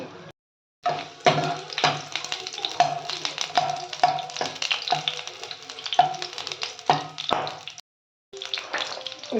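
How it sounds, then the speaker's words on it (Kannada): Onion fries in hot oil for tempering, a steady sizzle broken by repeated stirring scrapes and clinks of a spoon against the pan, with short silent gaps near the start and end. "ಇಲ್ಲಿ ಒಗ್ಗರಣೆಗೆ ಒಂದು ಈರುಳ್ಳಿ ಹಾಕ್ಕೊಳ್ತಾ ಇದ್ದೀನಿ"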